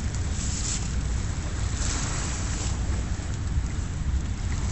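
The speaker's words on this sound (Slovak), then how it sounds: "Vidíte, že som sa dostal k moru." Sea waves wash in at sunset by the shore, a loud, continuous rush of surf mixed with heavy wind buffeting the microphone, with a few brighter swells rising and falling and no talking.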